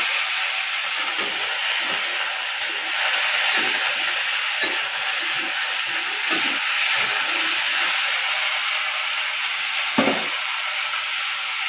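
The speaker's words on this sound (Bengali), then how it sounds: "আলু ডাঁটাটা একসঙ্গে নেড়ে নেব" Potato and vegetable stalks sizzling in hot oil in a wok, a steady loud frying hiss with faint clinks and scraping from stirring throughout, no voices.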